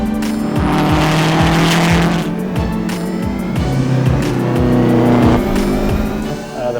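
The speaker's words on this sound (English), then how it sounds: "we had Vince out there turning lap after lap after lap" A GTR race car laps Road Atlanta in 2016, its engine loud and close throughout, rising and falling through repeated revs and gear changes with no break in the roar.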